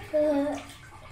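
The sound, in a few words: toy car dropped into water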